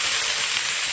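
Finely chopped onions sizzle in hot oil with cardamom and other spices for a mutton gravy, a steady, loud, bright frying hiss with no pause.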